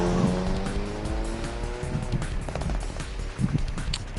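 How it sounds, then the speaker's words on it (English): Taxi in the video game 428: Shibuya Scramble: a loud, continuous engine rev surges up in pitch and then settles into a steady roar with road noise, with a couple of brief knocks partway through. "The taxi lurched into motion, the engine quickly revving up to speed."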